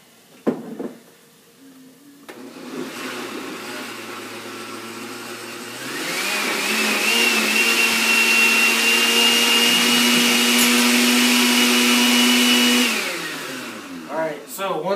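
A blender purees butternut squash alfredo sauce, first a low motor hum, then rising to a loud, steady high-pitched whir for several seconds before spinning down.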